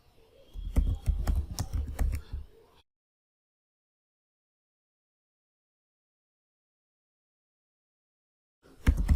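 A computer keyboard clatters in a quick burst as a terminal command is typed on a Linux Mint system, followed by a long silence and a few more keystrokes at the very end.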